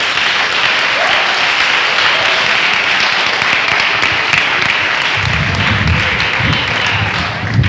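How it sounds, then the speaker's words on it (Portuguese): Sustained applause from a church congregation during a vision-day service, dense and steady clapping that fills the room evenly from start to finish, with a few louder hand claps near the end. "Muito bem, aplauso."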